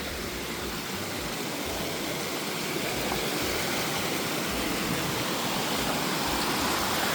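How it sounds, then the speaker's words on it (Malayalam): Steady, dense rush of water flowing down from a mountain in Mizoram fills the whole stretch, a loud continuous roar like a fast stream or small waterfall close by. "വെള്ളം മലയെന്ന് ഒരുപാട് ഒഴുകി ഒഴുകി വന്നിട്ടുണ്ട്"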